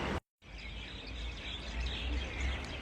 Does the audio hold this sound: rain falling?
no